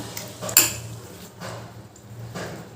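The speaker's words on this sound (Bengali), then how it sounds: "কড়াইয়ের মধ্যে দিয়ে দিলাম আর জল দিয়ে দেবো" Soaked banana flower pieces drop into a metal wok, giving one sharp clink and a few soft, quiet clunks spaced about a second apart against a low background hum.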